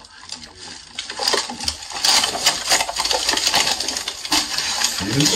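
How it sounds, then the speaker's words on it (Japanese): Loud, continuous plastic rattling and clattering, dense and busy throughout, like hard pieces knocking and scraping together close by. "すごこのプラスチックの音。"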